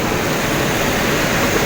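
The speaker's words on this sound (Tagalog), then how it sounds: "pumasok na yung baha dito sa loob ng guardhouse" Floodwater pouring into a guard house, a dense, steady rushing wash of water, loud and close with no pauses and no voices.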